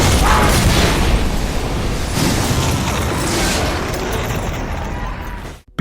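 A large explosion of an automatic door in an action movie scene with a SWAT team, a loud, sustained roaring blast that fills the clip before cutting off abruptly.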